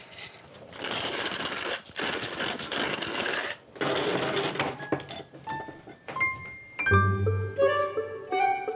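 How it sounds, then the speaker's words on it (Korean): An electric grinder crushes well-roasted coffee beans with a loud, gritty rattling whir in broken bursts, then gives way to clinks and ringing chimes near the end. "이렇게 잘 볶아진 원두를 분쇄기에 넣고 잘 갈아줍니다."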